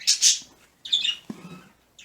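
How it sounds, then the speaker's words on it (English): Birds chirp and squawk in short loud bursts, a few separate calls with brief quiet gaps between them, nearby and without any talking. "And the birds are very talkative."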